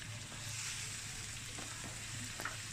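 Hilsa fish heads fry with onions in hot oil, making a quiet, continuous sizzle with small crackles and a few light stirring clicks scattered through it.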